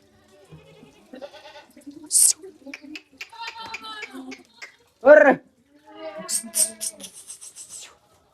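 Goats at a rural livestock pen, with a couple of short, loud bleats rising among quieter animal calls and background rustling; faint human voices are also present.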